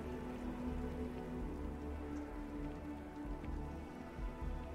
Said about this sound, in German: Okay, es regnet. Ein Säureregen.